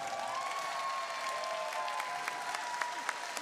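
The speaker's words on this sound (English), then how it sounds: "Big round of applause for our judges here in the blue shirts." An audience at a robotics district event applauds the judges in blue shirts, a sustained round of clapping with light crowd cheering and a few sharper claps standing out near the end.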